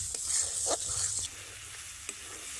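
A spice masala for broccoli is stirred in a pan, with soft sizzling and a few scraping spoon strokes, the frying quieter in the second half, no talking.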